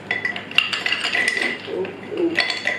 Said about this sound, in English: I'm going to add the ice now too, guys.